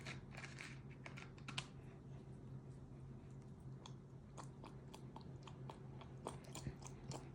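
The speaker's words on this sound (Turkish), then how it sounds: "Arkadaşlar şimdi bunu çalkalayacağız." A small plastic toy capsule from a MrBeast surprise-figure set gets shaken, giving a quiet, steady run of rapid rattling clicks and ticks from the figures inside.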